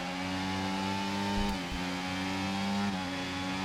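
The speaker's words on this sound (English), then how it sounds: "A couple of cars going wheel to wheel there." Racing engines in the F1 24 video game drone steadily and loudly as cars battle wheel to wheel, a sustained high-revving whine with a brief dip in pitch midway, then holding on near the listener.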